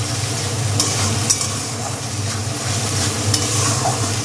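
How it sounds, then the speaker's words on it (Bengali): Spice masala with salt and turmeric frying in a pan for boal fish curry, a steady close sizzle with occasional scraping stirs, no talking. "ভালো করে মশলাটা কষিয়ে নিতে হবে।"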